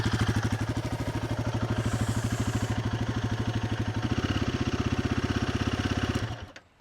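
Royal Enfield Guerrilla 450 motorcycle idling with a close, steady exhaust rumble, an even rapid thumping pulse that holds for several seconds before the engine cuts off and fades.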